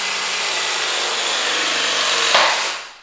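A Rems press tool crimps a fitting onto multilayer pipe, giving a steady, loud motorized whine for nearly three seconds that peaks near the end and then cuts off abruptly.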